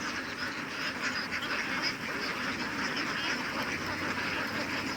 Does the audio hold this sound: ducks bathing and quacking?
yes